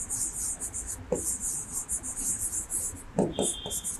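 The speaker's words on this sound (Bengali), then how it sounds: "we can draw the adjoining figure" A pen or pencil draws a figure on paper, scratching in a quick, broken series of short strokes, close and fairly clear, with a few taps and light room noise around it.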